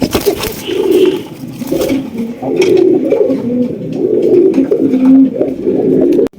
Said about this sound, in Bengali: এখানে রয়েছে একজোড়া গিরিবাস কবুতর